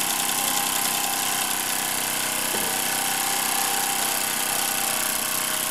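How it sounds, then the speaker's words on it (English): A 1920s Joseph Falk overtype steam engine runs steadily with a powerful, continuous mechanical whir and chatter, close and loud with no pauses, driving a pulley system. "That is quite a powerful engine. That could run a lot of things."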